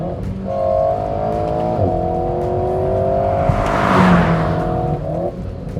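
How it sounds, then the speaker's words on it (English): An Alpine A110 sports car engine revs with a steady, droning note, rising and falling, with faint pops and burbles on the overrun, heard close and alone with no talking. "it pops and burbles on the overrun"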